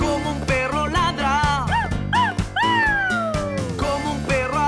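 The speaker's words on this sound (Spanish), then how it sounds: "¡Como un perro ladra!" Cartoonish sung barks ring out within a bright children's song about singing dogs, arriving as short rhythmic yelps and sliding vocal tones over steady upbeat backing music, loud and close.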